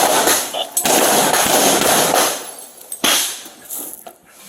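Gunshots fired by a police officer from the backyard of a home next to the property, heard as a few sharp cracks, loudest near the three-second mark, over a continuous noisy background with voices.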